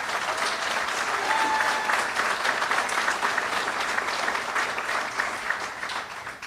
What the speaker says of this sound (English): So let's give her a round of applause again.